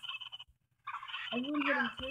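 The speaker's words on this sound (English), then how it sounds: "Oh, there's another chicken again." A chicken in the video game Roblox clucks in short, clear bursts, a squawky call repeated a few times with brief gaps, heard alone and fairly close.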